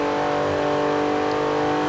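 Porsche 911 Turbo S (991) engine in the racing game Forza Horizon 3, a loud, steady, droning engine note held at high revs for under two seconds, heard alone without speech.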